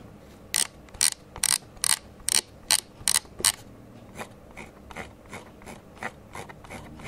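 A Logitech Pro X Superlight 2 mouse scroll wheel ticks in quick bursts of sharp clicks at first, then softer, quieter ratcheting notches against faint background hiss.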